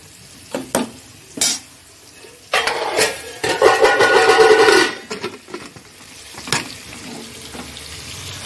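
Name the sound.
potatoes frying in a pan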